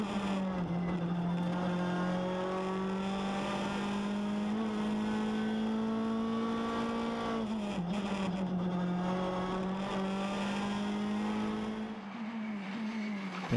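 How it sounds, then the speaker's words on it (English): Peugeot 208 R5 rally car on a rally stage, a loud continuous engine drone near the microphone with the pitch rising and dipping through gear changes and a brief lift near the end. "Here's Chris Prinsen, who wants another shot at beating his R5 colleagues with his Peugeot 208."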